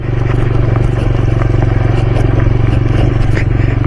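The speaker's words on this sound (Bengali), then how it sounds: "বাইক লাফাচ্ছে যেন, টক টক টক টক টক টক করে লাফাচ্ছে" A motorcycle with hard-inflated tyres rides over a rough road, its loud, steady engine drone close up, with faint knocks and clatter from the bouncing.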